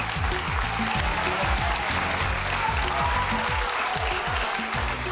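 Studio audience at a televised dance competition applauding steadily, a dense wash of clapping that holds at an even level throughout without talk.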